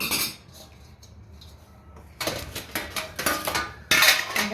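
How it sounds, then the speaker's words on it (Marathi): Close clinks and clatters of dishes and cutlery being set down and stacked, in several bursts with short quiet gaps. "भांडी जिथल्या तिथं ठेवावंच लागतात"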